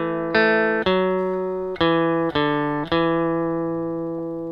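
Electric guitar picks out a melody, five clear single notes in a steady rhythm, each ringing and decaying, alone and close.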